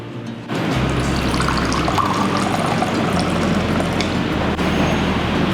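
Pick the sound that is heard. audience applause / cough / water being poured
water being poured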